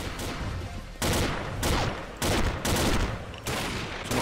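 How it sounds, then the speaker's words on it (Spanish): Gunfire in the video game Combat Arms on an oil rig map comes in several dense rattling bursts separated by short gaps, loud and close. "Oh, está habiendo disparos, ¿eh?"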